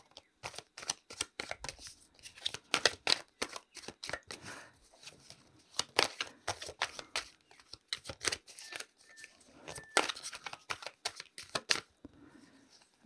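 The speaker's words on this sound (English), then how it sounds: "Let's pull some cards for them." Tarot cards are shuffled and drawn in quick bursts of crisp riffling and flicking, with short pauses between them, close and quiet, with no talking.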